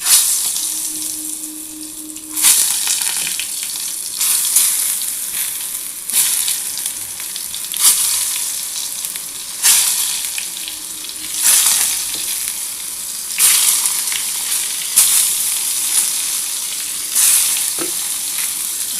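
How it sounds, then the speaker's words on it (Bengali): Eggplant slices fry in hot oil for an Indian-style hilsa fish curry, giving a steady close sizzle with crackling bursts that swell every few seconds as pieces are stirred or turned. "আমার দেখো তেলটা গরম হয়ে গেছে, আমি বেগুনগুলো কিন্তু ভেজে নিচ্ছি।"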